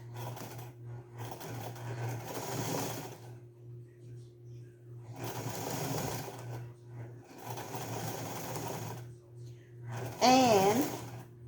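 A sewing machine runs in three steady stitching bursts separated by pauses while basting a sun or gardening bonnet, with a constant low hum underneath and a short clatter near the end.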